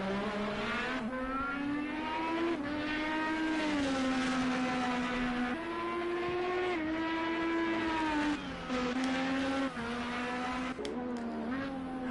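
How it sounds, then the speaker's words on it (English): IndyCar race cars run on a circuit in Project IndyCar, a steady high engine whine from one close car rising and falling through gear changes and corners, continuous and fairly loud, with no voices. "See all these cars getting ready for the next lap."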